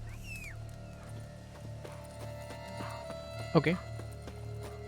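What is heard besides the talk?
hooves of Roach, Geralt's horse, in a video game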